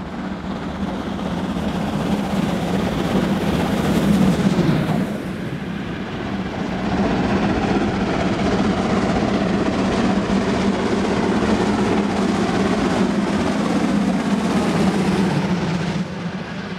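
Steam locomotive 03 10 hauling a passenger train between Bad Hersfeld and Bebra, a steady rolling rumble with clattering wheels that swells briefly early on, then carries on continuous and fairly loud.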